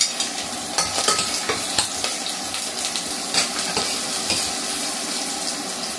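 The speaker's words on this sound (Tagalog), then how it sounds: "ilunod na natin ang ating onions" Onions and ginger fry in a very hot pan and get stirred, a steady broadband sizzle with repeated scraping and clinking spikes of the spatula throughout, close and alone with no voices.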